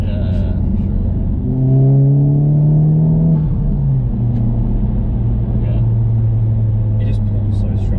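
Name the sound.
Honda Civic Type R FK8 turbo VTEC engine accelerating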